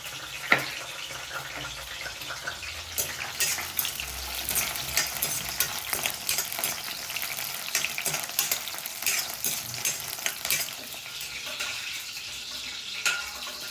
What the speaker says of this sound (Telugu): పచ్చిమిర్చి వేగిపోయిందండి